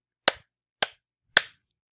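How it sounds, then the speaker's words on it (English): Three sharp single hand claps are spaced evenly about half a second apart, crisp and close, each one isolated in an otherwise quiet room. "Clap 3 times with me."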